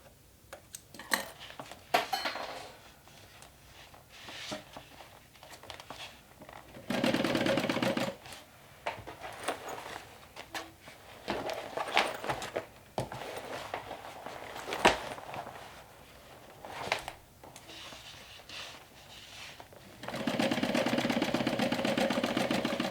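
A sewing machine back-stitching through the thick, bulky fabric of a backpack being turned into a handbag, with short motor runs starting and stopping, including longer steady bursts, amid handling clatter in a sewing room.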